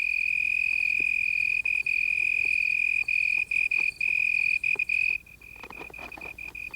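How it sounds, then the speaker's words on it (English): A cricket sings from a leaf used as a soundboard that amplifies its call, giving a loud, steady, high-pitched trill that runs almost unbroken, with brief gaps and a softer stretch near the end. "The leaf is the cricket's soundboard, and the sound produced is magnified in intensity as much as 3 times."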